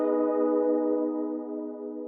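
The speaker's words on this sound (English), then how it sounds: "I added another electric piano to the end of the phrase, playing just the very last chord of the progression" A single sustained electric piano chord closes a beat's phrase, ringing warm and steady for about two seconds and fading slightly near the end, heard alone with no other sounds.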